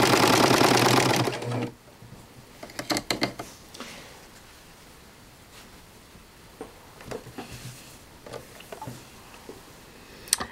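A serger sewing machine runs a seam along a corded pillow edge, its loud, fast motor whir sustained for under two seconds before stopping, followed by quieter scattered clicks and handling taps of fabric.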